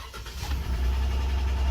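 A truck that is due for a new motor and fitted with a rotary shifter cranks briefly and then catches. Its engine settles into a steady, close idle rumble, and no voices are heard.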